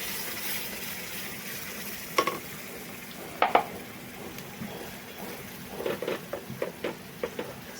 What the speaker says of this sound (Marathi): मसाला हलवून घ्यायचा आहे